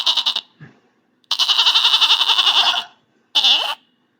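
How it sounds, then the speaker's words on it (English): A goat bleats three times, loud and close, with one long wavering cry between two shorter calls and silence in between. "how does a goat make noise?"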